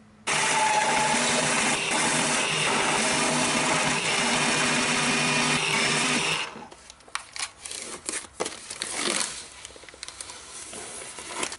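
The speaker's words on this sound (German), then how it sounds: "drehe das rum und bohre dann den Rest von der anderen Seite" A core drill bores through aluminium-clad plate during a router-table build, a loud, steady whining drone that holds for about six seconds and then cuts off, leaving scattered quieter clatter and handling noise.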